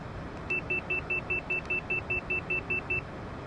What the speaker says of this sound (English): Airspeed alarm coming into play there.